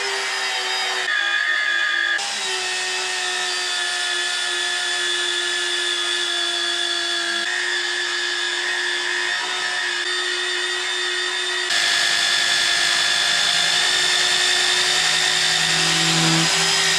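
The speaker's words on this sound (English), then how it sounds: "Effortless hole drilling." A power drill boring holes while building a concrete workbench, a loud continuous high motor whine that holds steady, with brief dips and pitch shifts as the load changes.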